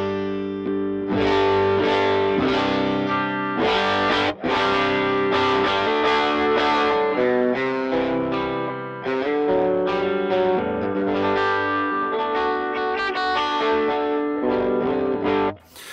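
An electric guitar through a Jet Pedals Mr. Jax overdrive/distortion pedal at its lowest gain setting strums chords and picks notes, slightly gritty edge-of-breakup tone, steady and fairly loud, no talking.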